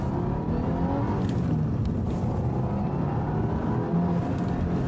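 A Japanese rally car's engine pulls hard under acceleration with three people aboard, giving a steady loud drone with a rising exhaust note heard from inside the cabin.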